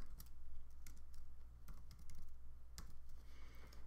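Rapid, uneven clicking of a computer keyboard as a telnet command is typed into a Docker container terminal managed with Rancher, close and fairly quiet, with no talking.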